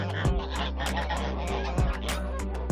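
Geese honk repeatedly and loudly at close range, several harsh calls overlapping in a steady flock chorus with a few sharper peaks.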